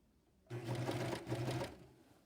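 A serger stitches the raw edges of shirt seams together, a close, steady mechanical whir running for about a second with a brief dip in the middle before it winds down.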